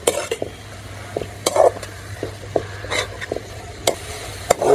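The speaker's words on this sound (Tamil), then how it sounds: "ஒரு 2-3 நிமிஷம் இதுலேயே நல்லா வதங்கணும்." Gongura leaves sauté in a pan, a low sizzle beneath sharp, irregular scrapes and taps from a stirring utensil, close and moderately loud, with no one talking.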